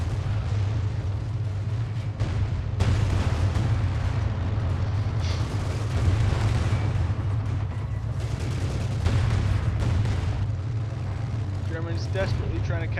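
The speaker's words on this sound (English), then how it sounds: "Soviet just lost a ton of tanks to that barrage," A Company of Heroes 2 artillery barrage pounds Soviet tanks and German troops in a dense, continuous roar of booming explosions over a heavy low rumble, with faint voices mixed in.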